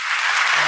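A short burst of applause sound effect plays on a podcast, a dense wash of clapping lasting under a second at steady loudness.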